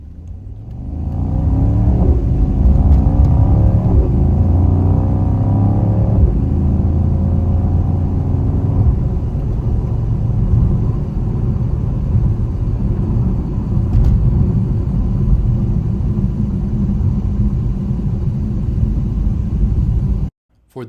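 A 2024 Mercedes-AMG GT63 engine pulls hard under acceleration while driving, a loud, steady, close rumble with rising whirring tones for about twenty seconds before cutting off.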